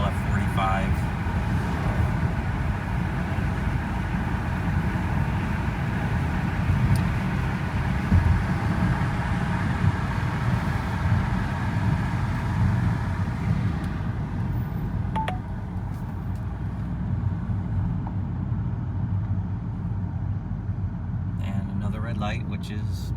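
Audi S5 cruising on cruise control at 45 mph on a back road, a steady low road and engine drone with tire rumble heard from inside the cabin, constant throughout, with someone talking over it.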